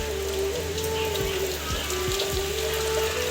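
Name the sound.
rainwater leaking and dripping into house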